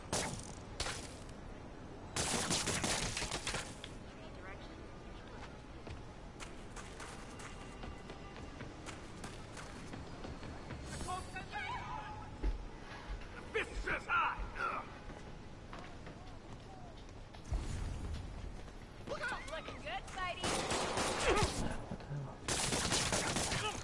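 Bursts of weapon gunfire in the Spider-Man video game, several loud rattling volleys separated by game noise and effects, with speech-like voices mixed in.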